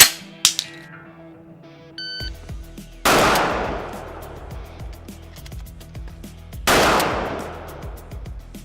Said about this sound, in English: So I'm going to mount, fire 1 round, and then reload 1 round into the tube from my shell carrier,